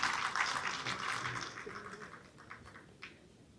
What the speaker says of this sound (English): please give them a round of applause.